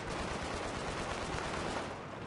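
Battlefield 3 Rush-mode gunfire in a battle near a tank, a continuous wash of rapid automatic shots, fairly distant and blended into a dense, steady din without breaks.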